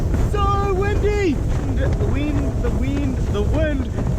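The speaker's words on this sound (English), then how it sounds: "The wind has intensified" Strong wind on the Greenland ice cap roaring and buffeting the microphone continuously, with a voice talking over the steady rumble.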